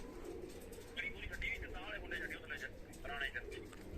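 Pigeons give soft, quiet, repeated cooing calls in short bursts, with faint background noise around them.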